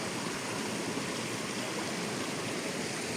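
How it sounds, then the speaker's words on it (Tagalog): Water of a stream flowing through an old Japanese tunnel, a steady, dense rushing and gurgling that holds constant throughout with no pauses, fairly close. "Flowing water eh."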